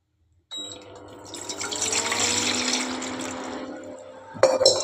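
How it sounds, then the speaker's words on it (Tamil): Water poured into a cooking pot, three glassfuls for hibiscus tea, a steady close splashing and running stream lasting several seconds, ending with a brief clatter. "மூணு கிளாஸ் தண்ணி ஊற்ற போகிறோம்"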